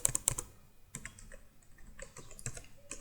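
Close-up typing on a computer keyboard, with quiet irregular clicks and short bursts of keystrokes separated by brief pauses.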